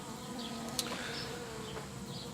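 Bees from a recently requeened hive buzz softly and steadily, a faint, continuous drone with one brief sharper blip near the start.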